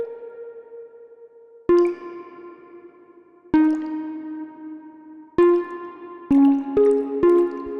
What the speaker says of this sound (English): Now listen to the characteristic of that pluck.